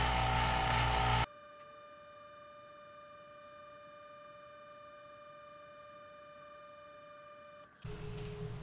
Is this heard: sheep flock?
no